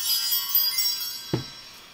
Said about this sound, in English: I want to ring the bells and create some sacred space around